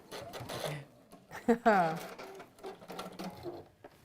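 A sewing machine stitches fabric onto a backing in a short whirring burst, closely mixed with a person talking nearby.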